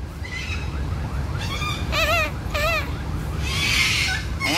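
Noisy birds at Ninoy Aquino wildlife park give several loud, shrill, wavering calls in quick succession over a busy outdoor background.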